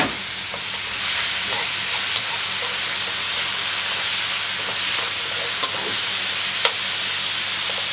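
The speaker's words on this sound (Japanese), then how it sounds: "先ほどの肉を戻してもう一回焼きます" Sliced pork pan-fried again for a stamina rice bowl, a loud, close, steady sizzle and hiss with occasional light stirring clicks throughout.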